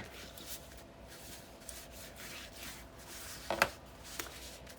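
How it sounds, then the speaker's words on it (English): A jumbo album cover is burnished by hand, producing faint, soft rubbing and scraping strokes against paper with one sharper scuff near the end, quiet and close with no talking. "Burnish really good."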